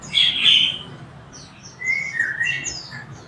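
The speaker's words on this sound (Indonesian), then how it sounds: "Burung pastolanya." A caged songbird at a bird kiosk gives bright, clear chirps in two bursts, close and fairly loud over a low background hum.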